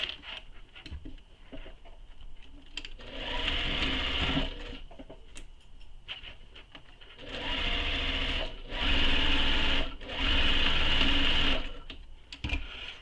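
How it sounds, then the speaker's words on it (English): Sewing machine stitching the side seam of a tote bag, several bursts of rapid whirring stitching separated by pauses with small handling clicks and rustles, close and fairly loud. "Now I'm going to sew, as I was saying, down one side and back up the other side"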